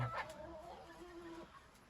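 New chickens give soft, brief clucks at moderate distance, quiet and close together against a faint steady background hiss.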